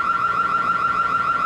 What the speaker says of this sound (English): That's a siren there.